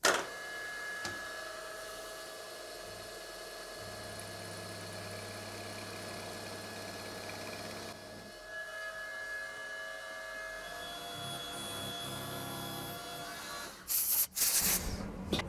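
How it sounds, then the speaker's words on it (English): A machine drills preload holes in a collet at 1000 RPM, giving a steady, faint mechanical whir that runs for most of the span before ending in a few sharp clatters. "Drilled the three preload holes."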